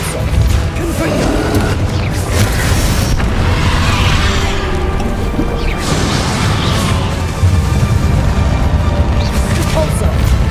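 Confringo explosive spells from Hogwarts Legacy go off in a loud, dense sequence of crashing booms and impacts over roughly ten seconds, layered over continuous game noise and music.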